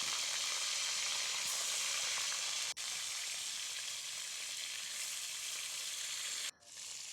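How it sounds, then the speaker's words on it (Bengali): Pieces of a large fish head fry in a pan of oil, giving a constant, even sizzle that runs on alone for several seconds with one brief interruption and a drop near the end. "মাছটা প্রথমে ভাজি করে নেব।"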